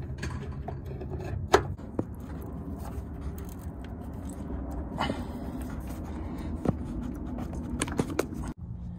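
A wrench clicks and scrapes while tightening a flex fuel sensor on a 1999–2000 Ford Ranger with a 3.0 engine, giving scattered ratcheting ticks and metallic knocks over a low steady background rumble.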